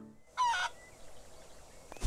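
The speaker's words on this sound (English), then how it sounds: "Chicken! Yes." A chicken in the barn-exploring game Barn Finders gives a single short, honking cluck, moderately loud and alone, with quiet background afterward.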